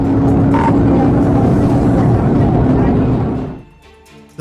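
A stolen Ford Mustang speeds through busy city streets in a police chase, its engine roaring loud and steady for over three seconds before the noise drops away abruptly, leaving quieter scattered sounds.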